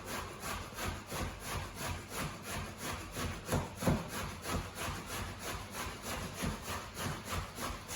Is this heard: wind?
no